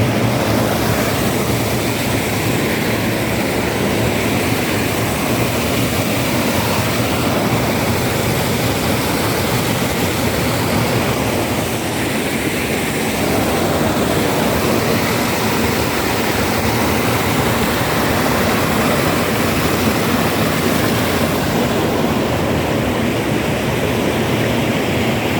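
Water rushing down at Wadi Namar lake park, a loud, continuous broadband roar like a waterfall that stays constant and close for the whole stretch.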